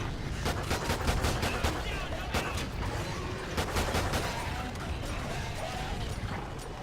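Rapid gunfire rattles through a Call of Duty: Ghosts zombie-horde match, sharp repeated shots in bursts over a dense, noisy battle background, with faint player voices mixed underneath.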